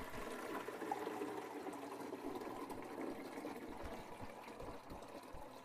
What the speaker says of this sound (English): you'll want to put water in the reservoir